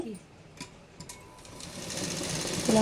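A sewing machine stitches baby boy pant pieces together. It starts as a quiet, sparse ticking and grows into a steady, louder whirring run toward the end.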